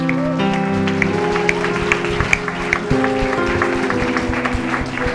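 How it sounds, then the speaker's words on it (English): Church congregation clapping during a worship service, scattered claps over sustained organ or keyboard chords and a low drone, fairly loud and steady throughout. "Let's clap for Jesus."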